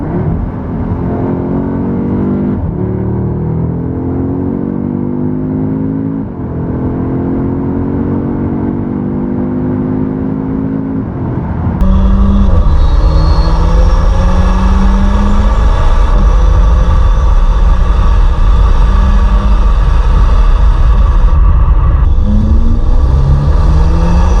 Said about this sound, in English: We'll give it a few little bursts, see if you can hear that exhaust tone.